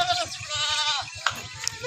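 Goats bleat at a goat farm where Rajanpuri goats are kept, a close wavering cry followed by a second, with a rapid low rhythmic thumping underneath.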